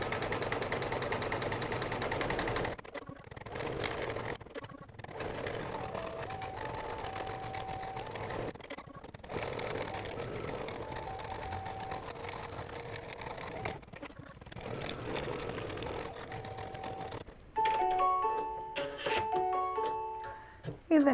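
Embroidery machine stitching an in-the-hoop Go Fish game, a steady buzzing, rattling stitch drone that stops for brief pauses between runs, with a short faster burst of stitching near the end.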